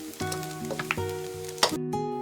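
Crispy fried rice and shrimp sizzle while being stirred in a pan with the heat off, soft crackling and scraping under a sustained musical tone.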